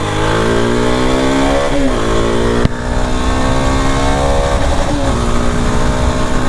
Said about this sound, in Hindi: इसको अभी चलाएंगे, टॉप स्पीड चेक करेंगे इसका